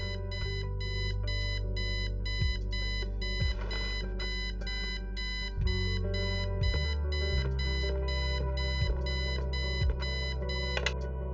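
An alarm clock in the video game Kathy Rain rings with a continuous, loud electronic beeping pattern that runs the whole stretch without a break, over a steady low background tone.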